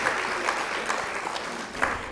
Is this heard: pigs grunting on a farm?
no